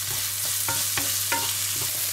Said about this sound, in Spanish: Le voy a poner una pizca de sal y voy a pochar durante un par de minutos.